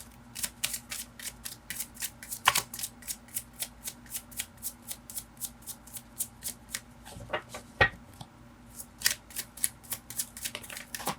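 Tarot cards shuffled by hand in a quick, steady series of crisp riffling flicks, close and clear, with a couple of louder snaps and faint room hum underneath.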